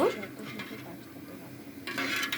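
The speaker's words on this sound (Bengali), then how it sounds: "এখন এটা চুলোর উপর দেওয়ার পরে আমরা সুন্দর করে এটা নেড়ে নেব" Payesh being stirred in a pot on a stovetop over medium heat, faint spoon scraping and clinks against the metal, quiet and close, briefly louder near the end.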